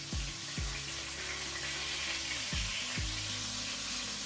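Chicken pieces fry in a pot with a steady, close, bright sizzle, broken by a few low thumps and clunks as more pieces are set down in the hot fat.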